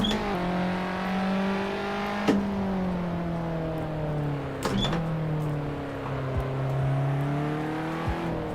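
Rear-engine car in Assetto Corsa on a night mountain touge road, its engine droning steadily with rising and falling pitch as it shifts and brakes, a few sharp clicks cutting through, no talk.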